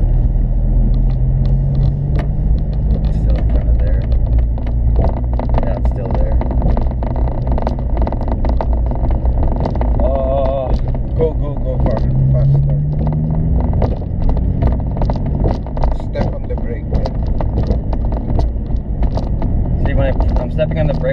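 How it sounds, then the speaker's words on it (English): A Honda Civic driving down a bumpy residential street: continuous low road rumble with scattered knocks and scrapes from the suspension, loud and close inside the car, with a voice talking over it at times. "We're gonna drive down my street because it's a little bumpy"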